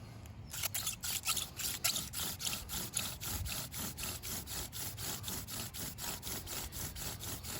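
Bow drill with a bundled spindle spun by a t-shirt hem bowstring, giving a steady run of rhythmic back-and-forth rubbing strokes, close and moderately loud, with no talking.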